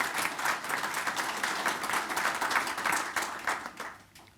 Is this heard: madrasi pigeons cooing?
no